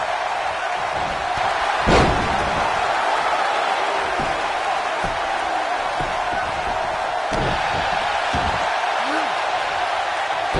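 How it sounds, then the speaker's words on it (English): Heavy body slams in a WWE wrestling video game, with a loud thud near two seconds and several softer impacts later, over steady crowd noise and commentary. "Probably a back suplex."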